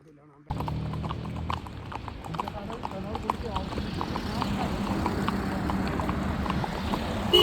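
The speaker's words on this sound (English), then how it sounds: "And this is our first time riding on a horse." Steady clip-clop of horse hooves on a hard surface, close by, in Shimla, India, with a constant rushing background and some talking in the distance.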